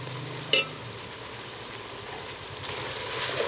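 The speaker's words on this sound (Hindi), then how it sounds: "ओजरी को भूनते हुए 15 मिनट हो गए हैं मुझे।" Mutton tripe (ojri) frying in a pan makes a soft, continuous sizzle with one sharp clack of a utensil near the start, a faint crackle rising toward the end and a low hum underneath.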